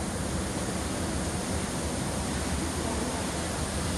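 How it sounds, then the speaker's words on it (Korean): Pinaisara Falls on Iriomote Island, Okinawa: a steady, full-band roar of falling water, loud and close, unbroken throughout. "피나이사라 폭포에 도착을 했습니다."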